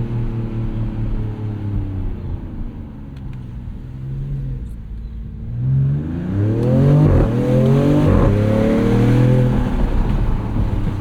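A 2026 Dodge Charger Scat Pack sedan with a twin-turbo inline-6 cruises, then revs hard, its engine note climbing in loud rising sweeps through several gears, heard from inside with the windows down.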